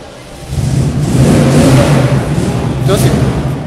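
A Ford Mustang engine revs up and holds a loud, rough mid-range roar close by, with a brief extra flare near the end.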